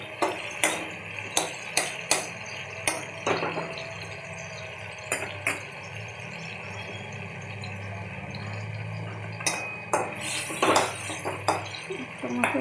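Spices sautéing in a pot on a home stove for a daily lunch dish, utensils clanking and scraping against metal in sharp irregular knocks over a low steady cooking rumble, close by, with a voice briefly in the background.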